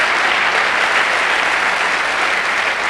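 An audience breaks into loud, sustained applause at a motivational talk, dense clapping from a large crowd continuing evenly throughout with no speech.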